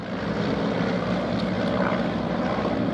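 A de Havilland Tiger Moth biplane flying at the Duxford air festival, its propeller engine giving a steady, fairly loud droning hum from a distance that holds even throughout.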